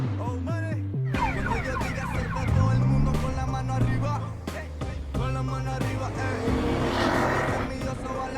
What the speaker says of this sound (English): And you can hear the different types of engines.